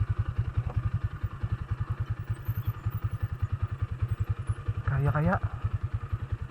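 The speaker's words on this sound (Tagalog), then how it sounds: "Patayin ko muna yung engine." An off-road motorcycle engine idles with a steady, close, throbbing pulse through the whole stretch, with a brief surge or clunk near the end and a person speaking over it.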